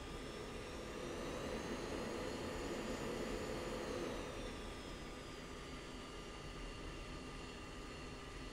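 Jet engines roar steadily during a takeoff roll in the Falcon BMS flight simulator, a loud sustained whine and rumble with a rising tone that gradually shifts pitch.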